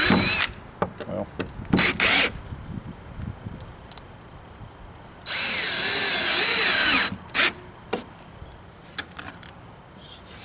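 A Dewalt DCD771 drill driver spins a screw into soft wood at high speed in a loud, sustained whine lasting about two seconds, with shorter bursts and clicks before and after and brief talk between.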